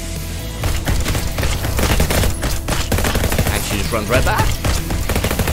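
Nail gun and flamethrower turrets in a tower defence shooter game firing in rapid, dense bursts, a loud continuous barrage of sharp hits and booms, with someone briefly talking over it.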